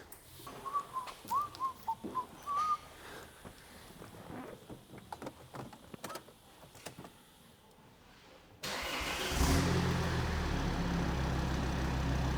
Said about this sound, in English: Let's see what a D5 sounds like with a DPF delete downpipe and a cat delete 3-inch